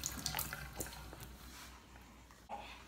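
A faucet runs water to wet a skincare brush, making a faint, steady splashing trickle with a few small drips in a quiet room.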